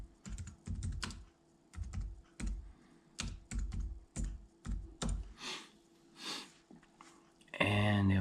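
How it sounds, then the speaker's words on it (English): Typing on a computer keyboard to search for ARRMA Big Rock RC car parts, with bursts of close, clattering keystrokes separated by short pauses and a louder sound near the end. "I'm going to type in ARRMA Big Rock."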